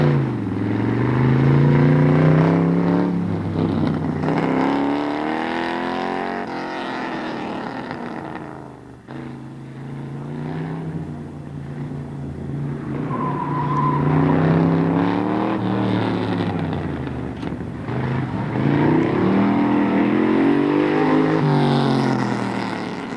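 Datsun 240Z pushed hard on an autocross course, engine revving up and down in continuous rising and falling sweeps with brief lifts between shifts, loud and close throughout.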